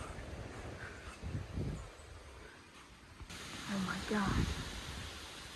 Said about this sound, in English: We're literally getting straight line wind gust from a shelf cloud.